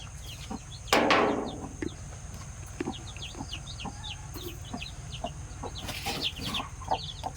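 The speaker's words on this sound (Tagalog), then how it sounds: "Bahugan natin yung sisiw" Newly hatched Rhode Island Red chicks on a Philippine farm peep in a dense, continuous chorus of high, rapid chirps, close by, broken by an occasional louder knock or rustle.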